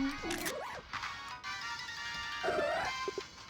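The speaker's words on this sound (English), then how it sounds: "I do like Absol's noise." Absol's cry from a Pokémon video game, a short yelping, dog-like call with rising and falling pitch, heard twice in quick succession over a steady synthetic background hum.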